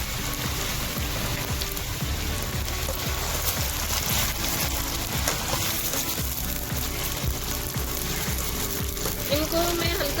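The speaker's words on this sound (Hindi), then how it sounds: "हाफ कप मस्टर्ड ऑयल लेकर इसे गरम कर लीजिए और इसमें ये जो आलू काट के रखे थे उनको डाल दीजिए फ्राई करने के लिए" Cubed potatoes frying in hot mustard oil, a steady loud sizzle and crackle throughout like heavy rain, with a faint voice underneath.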